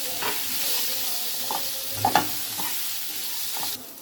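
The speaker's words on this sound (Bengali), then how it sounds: "এবার আলুগুলো ভালো করে ভেজে নেব।" Potatoes fry together with washed pulao rice in a pan, a continuous close sizzle broken by several soft stirring knocks, one pair slightly louder near the middle, with no voices.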